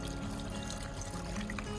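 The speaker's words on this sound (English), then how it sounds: "Another quick rinse with fresh water," Fresh water pouring and trickling over tumbled rose quartz being rinsed after the second polishing stage, a steady close splash lasting the whole short stretch with no talk.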